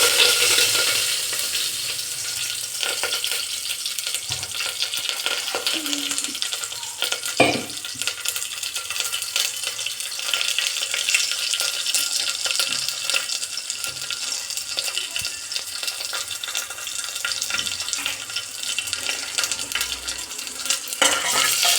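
Mustard seeds and onion sizzle steadily in hot oil for a village-style sprouted field bean bassaru curry, a dense continuous frying hiss with occasional stirring clinks and no talk.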